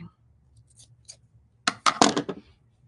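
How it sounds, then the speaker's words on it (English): Scissors snipping away excess fabric on a craft canvas after threads are pulled, a quiet rustle and then a quick cluster of sharp close cuts. "So I'm just kind of pulling some threads and then cutting away the excess."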